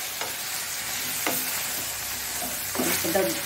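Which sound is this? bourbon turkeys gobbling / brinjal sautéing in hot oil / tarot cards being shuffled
brinjal sautéing in hot oil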